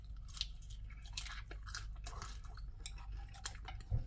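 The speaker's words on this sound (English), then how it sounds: "Y'all hear that crunch?" Crunchy bites into a fried chicken thigh, close-up chewing and crackling crunches in a steady irregular rhythm with occasional cutlery and dish clinks, no talking.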